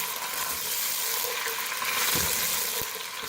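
Crushed onion frying in a pan over medium flame for a fish head soup, a steady bright sizzle with a few soft stirring knocks, close and continuous with no voices.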